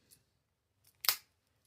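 Victorinox Swiss Army knife scissors handled up close: a faint tick, a soft click, then one sharp metallic snip, with no talking.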